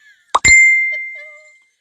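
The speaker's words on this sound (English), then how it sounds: "Oh, my phone's going off" A phone notification chime rings out loud and close: two quick struck tones, then a clear bell-like ring that fades over about a second, with faint small clicks after.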